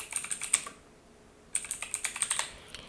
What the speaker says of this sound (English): And here I'm typing my stream title.